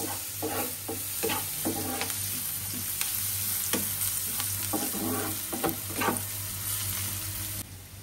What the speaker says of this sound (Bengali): আমি এই তেলে মাছ ভুনা করে নিচ্ছি